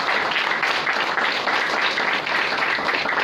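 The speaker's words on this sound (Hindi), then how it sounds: "तो कंपनी के लिए जोरदार ताली हो सकती है." Audience at a talk on teamwork gives loud, continuous applause for the company, a thick steady patter of many hands lasting around three seconds without speech.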